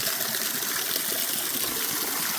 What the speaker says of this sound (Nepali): यो धारा छ।